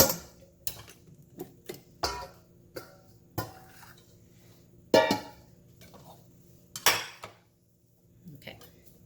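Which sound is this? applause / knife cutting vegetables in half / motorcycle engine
knife cutting vegetables in half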